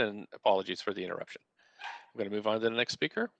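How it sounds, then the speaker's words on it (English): A puppy barks briefly in the background during a public hearing, a short burst set in a pause between stretches of close, steady talking. "Apologies for my puppy barking in the background there."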